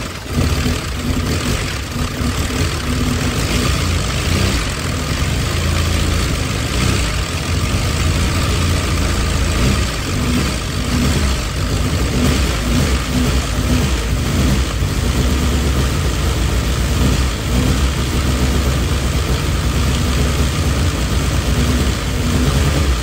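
A freshly built Nissan KA24DET turbo engine runs on its first startup, a loud, steady, rumbling idle that drones on continuously nearby without any talking.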